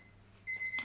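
Oven timer beeping in a kitchen: a steady electronic tone sounds partway through, alone after a quiet stretch, loud and close.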